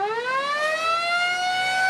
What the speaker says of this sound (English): The sound of a siren blared early Thursday morning